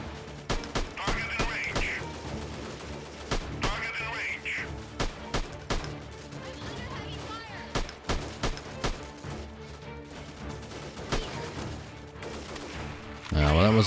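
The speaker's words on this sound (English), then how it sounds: "Gonna get out my LMG again." A light machine gun fires in the video game Freeman Guerrilla Warfare, with repeated sharp bursts of rapid shots separated by short pauses. A heavier boom lands at the end.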